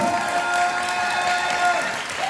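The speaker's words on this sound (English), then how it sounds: "Let's continue that round of applause" Audience applause fills the room, a steady dense patter of clapping hands at moderate level with a little crowd noise underneath, continuing unbroken throughout.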